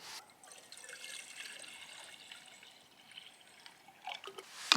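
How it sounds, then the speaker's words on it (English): Water pours into a Jetboil Flash 2.0 cooking cup in a steady, close trickling fill lasting several seconds, ending with a brief clatter, with no talking. "So we'll put some water in now and we'll get boiling."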